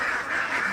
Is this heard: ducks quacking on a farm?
yes